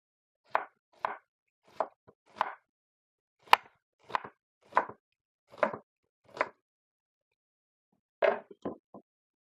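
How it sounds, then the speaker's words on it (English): A knife chops an onion on a cutting board in about a dozen crisp, separate strikes. The strikes come at an uneven, unhurried pace with a short pause near the end, close and fairly quiet against a silent background. "we're going to go ahead and cut up our onion"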